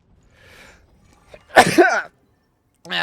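A single sharp human sneeze, close and loud after a faint breathy buildup, with a short vocal sound starting just afterward.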